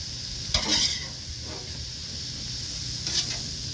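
Mushrooms frying on a homemade hibachi grill, a soft steady sizzle and hiss with two louder bursts of scraping and stirring as they are moved about on the hot surface.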